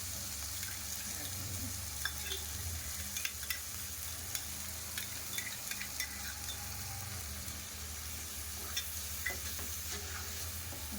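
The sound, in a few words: ground spice paste frying in pan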